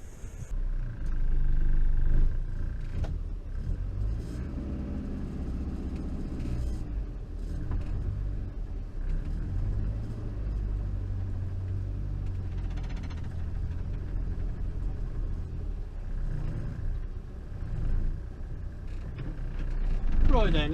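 A 1962 Morris Minor's engine runs steadily as the car is driven, a low continuous rumble with small shifts in pitch, close and moderately loud throughout.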